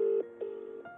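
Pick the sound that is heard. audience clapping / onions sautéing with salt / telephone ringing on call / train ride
telephone ringing on call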